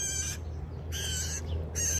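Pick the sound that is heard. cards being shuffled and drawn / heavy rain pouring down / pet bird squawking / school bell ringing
pet bird squawking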